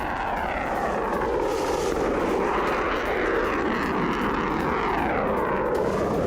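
A fighter jet's engine roars continuously and loudly, a dense, steady rumble with a slowly shifting pitch, and no voices are heard.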